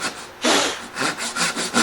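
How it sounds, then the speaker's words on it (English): Hand saw cutting through wood while building a table, a series of rough rasping strokes in an uneven rhythm, close and fairly loud, with no voices. "So just keep sawing it on down until you get about there."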